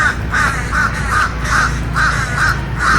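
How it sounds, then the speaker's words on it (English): Crows caw repeatedly in a steady rhythm, about eight harsh calls in a few seconds, fairly close and loud over a rumbling background. "Let's see, there's birds up there. Those are crows,"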